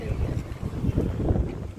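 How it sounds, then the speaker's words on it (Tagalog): Breezy morning wind blows outdoors around Khalifa International Stadium in Doha, a steady low rushing buffet on the microphone that fills the whole short stretch with no clear voices. "Mahangin sa labas."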